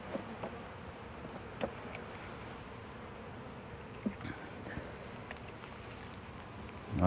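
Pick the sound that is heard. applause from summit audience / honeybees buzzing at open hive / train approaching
honeybees buzzing at open hive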